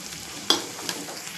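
Paneer masala sizzling in a frying pan as it is stirred, a steady close frying hiss with a couple of scraping stir strokes.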